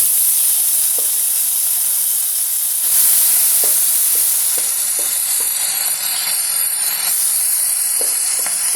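Cooked ingredients for Karkidakam payasam hitting hot ghee in a pan give a loud, continuous hissing sizzle that swells after a few seconds, with small stirring clicks and taps scattered throughout and no one talking.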